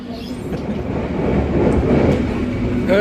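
The rumble and rattle of a moving passenger train in Cirebon, Indonesia, fills the space from inside the carriage, steady and loud with faint clacking beneath.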